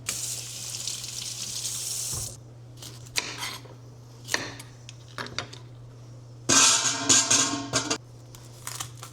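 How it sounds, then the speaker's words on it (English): Vegetables being washed under a running kitchen tap while preparing bone broth, with bursts of gushing water broken by pauses, rustling and handling noises, and a low steady hum beneath. "I'm going to start with washing my vegetables"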